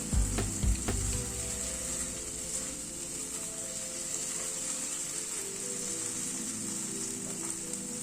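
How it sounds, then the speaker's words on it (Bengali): Tomato ketchup stirred into a sizzling egg curry masala in a pan, a steady close frying hiss running throughout with a few scraping stirs near the start. "টমেটো কেচাপটা দিয়ে একটু নাড়াচাড়া করছি।"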